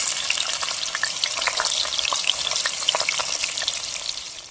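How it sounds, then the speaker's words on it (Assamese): Pumpkin and potato pieces half-fry in hot oil in a pan, making a strong, even sizzle with close crackles and spatters and occasional stirring throughout, with no speech. "ৰঙালাওটো অলপমান হাফ ফ্ৰাই কৰি ল'ম"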